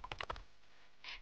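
A few quick keystrokes clatter on a computer keyboard as a text prompt is typed, close and quiet, followed by a brief soft hiss.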